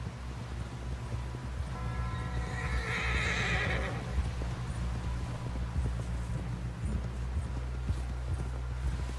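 A horse in the Red Dead Redemption 2 video game whinnies once in a loud shrill neigh, followed by steady clip-clop hoofbeats over a low rumbling game background.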